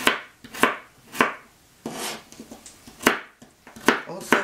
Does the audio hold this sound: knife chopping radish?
yes